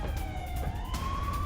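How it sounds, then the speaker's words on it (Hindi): Emergency sirens wailing in Ukraine during wartime attacks, a steady rising tone heard continuously over low background rumble. "इमरजेंसी जैसे इन हालात के बीच लगातार बज रहे सायरन"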